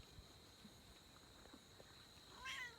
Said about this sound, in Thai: อันนี้แมวส้มนะครับ มันตื่นมาทานข้าวฉากพอดีครับ